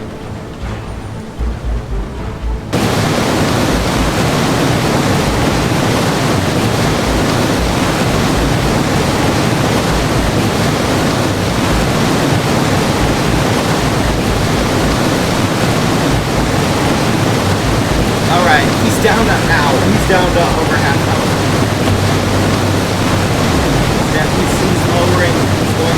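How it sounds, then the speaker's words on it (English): Steady rushing water flows without a break in the Roblox game Invision's Web-Verse, a loud broadband wash that holds for the whole stretch after a brief quieter opening. "Let's keep this water flowing."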